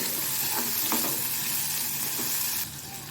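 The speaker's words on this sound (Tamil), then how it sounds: "இப்போது இதெல்லாம் கொஞ்சம் வதங்கட்டும்." Ginger, garlic and green chillies sauté in a pan for coriander leaf chutney, giving a steady close sizzle with a few faint stirring scrapes and no talking.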